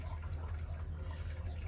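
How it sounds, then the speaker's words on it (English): Backyard guppy pond water draining down through an overflow siphon, a soft continuous trickling and gurgling flow heard close up and fairly quiet, with no talking. "that siphons it down to whatever level you want to bring the water down"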